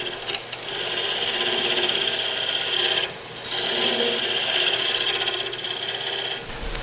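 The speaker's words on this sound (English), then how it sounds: "Clean this up with my skew chisel." A skew chisel cuts a burl wood box lid spinning on a lathe, making a steady raspy scraping that runs continuously, breaks off briefly partway through, then resumes at the same close, loud level.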